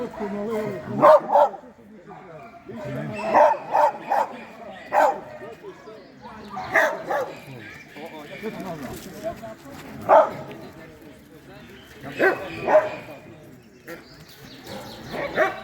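Several Laika dogs bark and yip in scattered bursts at a dog show ring, some near and some farther off, with people talking in the background.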